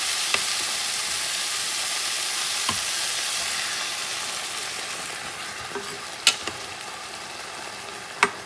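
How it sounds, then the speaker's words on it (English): Dried whole peas (pitipuas) and broth sizzle in a hot pot for Puerto Rican stewed peas, a steady broad frying hiss with occasional louder stirring clinks and scrapes near the end. "So we're going to start adding not just the pitipuas, but actually with some of the broth."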